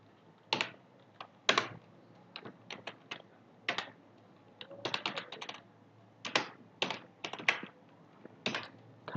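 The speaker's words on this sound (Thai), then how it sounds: "พิมพ์แท็กคำสั่ง ของ HTML แบบ class" HTML code is typed on a computer keyboard in scattered clusters of crisp, close keystrokes with short pauses between bursts, set against a faint low hum and no voices.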